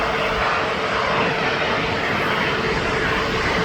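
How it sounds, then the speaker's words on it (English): Jet2 Holidays airliner at Birmingham Airport, arriving from Cyprus: a loud, continuous broadband jet engine roar that stays steady and close for several seconds with no talking. "Here comes the Jet 2 Holidays aircraft."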